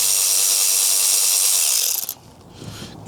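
A power driver whirs steadily while backing out a T25 Torx screw during ignition lock cylinder work on a 1982–1992 Pontiac Firebird, a loud high-pitched motor whine that cuts off after two seconds and leaves a faint rattle.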